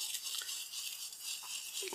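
Brisk scrubbing with an old toothbrush rasps back and forth against a TV remote control, a steady hissing scratch lasting a couple of seconds with no talking.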